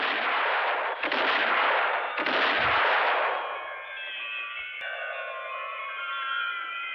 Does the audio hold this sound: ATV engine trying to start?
no